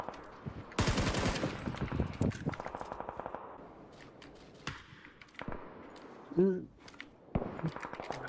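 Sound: gunfire in the video game PUBG

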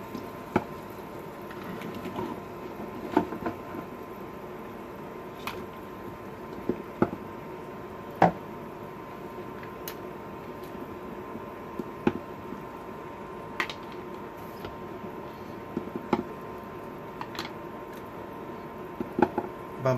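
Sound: eggs lowered into boiling water with slotted spoon

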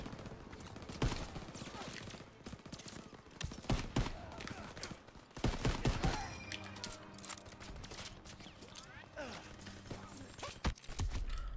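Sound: machine gun fire in video game Call of Duty WWII

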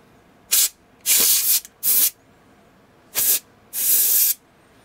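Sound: compressed air can spraying on laptop

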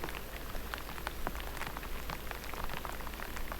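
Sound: light rain falling while fishing

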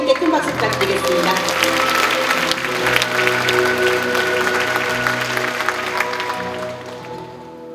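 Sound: audience applause at a concert

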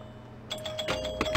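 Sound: bells ringing on a pinball table, video game

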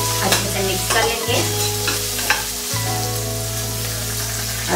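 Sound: stirring herbed rice with pizza sauce in a pan

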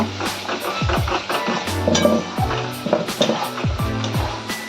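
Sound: frying masala spices in pan for chicken

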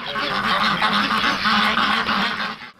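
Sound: ducks quacking at a farm

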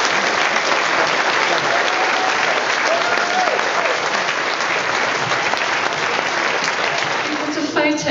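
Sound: applause

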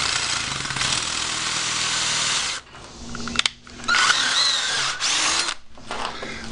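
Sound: power drill drilling metal conduit

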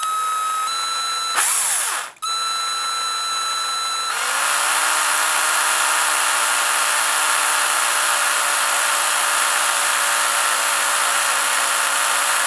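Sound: wooden dowel spinning in a drill, shaped with square file

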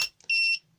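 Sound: laser level beeping

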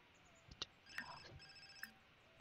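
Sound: telephone ringing in The Sims 4 video game

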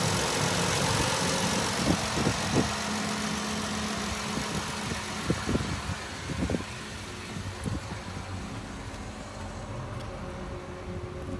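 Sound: 2017 Dodge Journey SXT 3.6 engine running

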